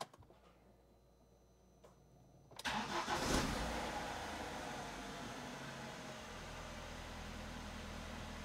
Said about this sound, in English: Back in the car, let's start the engine.